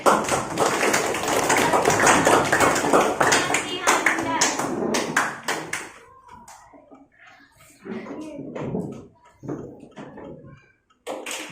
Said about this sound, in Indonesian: Tepuk tangan buat Sami.